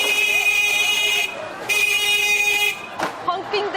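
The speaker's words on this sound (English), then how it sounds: "honking their horn" Vehicle horns blare at a busy fishing port at night, two long sustained honks of about a second each, loud and close, followed by shorter bursts and clatter.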